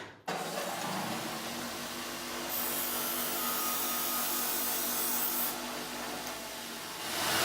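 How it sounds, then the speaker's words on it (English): A disc sander grinds a 45-degree bevel onto a strip of wooden ukulele kerfing, a loud, steady close-up abrasive whir that starts suddenly and holds for several seconds. "If you just knock it off at 45 degrees on the disc sander really quick"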